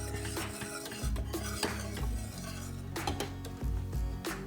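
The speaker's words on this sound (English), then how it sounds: "So just mix that cheese in there real good." Cheese being stirred into grits in a pot over low heat: repeated scraping clinks of a utensil against the pot in an uneven rhythm, close and fairly loud, with no talking.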